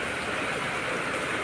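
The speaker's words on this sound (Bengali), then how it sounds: "এই যে শুনেছি বৃষ্টি" Steady light rain falls on an overcast morning, a fine drizzle coming down like dense mist, making an even, continuous hiss with no talking.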